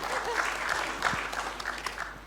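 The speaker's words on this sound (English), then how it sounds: "please let's give a round of applause to Puan Aishah" Audience applause at a panel session of a fiber connectivity conference, a mid-level spread of clapping from a seated crowd lasting a couple of seconds, with some faint voice-like murmur mixed in.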